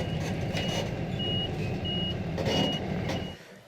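A truck being moved near a crane rescue job sounds a repeated reversing beep over a low rumbling diesel engine, close and loud, with the beeping fading as the engine drops off at the end.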